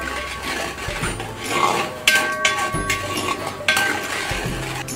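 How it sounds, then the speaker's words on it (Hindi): Three chopped onions, about 150 grams, stirred as they fry in a pot, with a steady run of close metallic clatter and scraping from the utensil against the pot and no voices. "और अब मैं इन प्याज को थोड़ा भूनूंगा"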